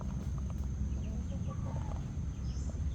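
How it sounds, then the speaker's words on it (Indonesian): A chicken with a snoring respiratory illness gives faint clucking calls over a steady low hum and background noise, its rough breathing sounds barely standing out. "ayam yang ngorok."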